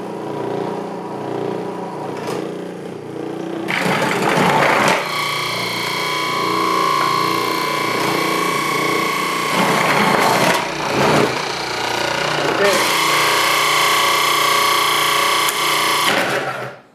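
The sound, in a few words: Cuisinart DFP-14BCN food processor running and grinding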